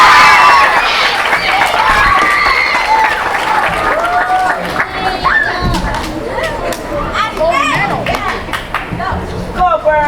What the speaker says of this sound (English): Again, let's give these students a round of applause.